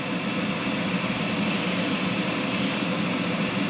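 A 350 CFM spray booth blower running steadily, a loud constant broadband rushing whoosh of air, close and unchanging, with a slightly brighter hiss for a couple of seconds in the middle.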